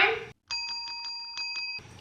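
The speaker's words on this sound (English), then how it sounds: "Make sure to ring that bell for notifications." Bell ringing sound effect, a clear bright bicycle-style bell trilling rapidly for about a second and a half, set between brief bursts of other sound.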